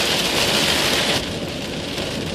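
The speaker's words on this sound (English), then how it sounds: "Sorry, the noise from the rain." Heavy rain pours steadily in a dense, hissing roar, close and loud, with no voices.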